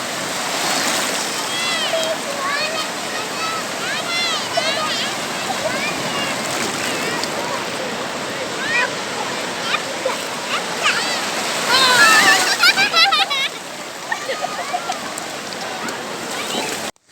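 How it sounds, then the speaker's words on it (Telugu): Sea water rushes fast onto a beach in a steady, loud roar of surf and splashing that swells briefly near the end, with people talking over it throughout. "ఇవి నీళ్ళు ఎన్నికి ఫాస్ట్ వస్తున్నాయి"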